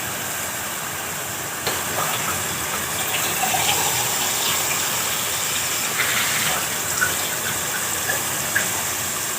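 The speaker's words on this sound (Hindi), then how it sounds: "एक गिलास पानी डाल दें इसमें।" Water pours steadily into a pot of cooking achar gosht for several seconds, a continuous splashing gush with faint clinks partway through.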